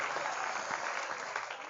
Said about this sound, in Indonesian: Boleh tepuk tangan buat Ashabul Jaulah Community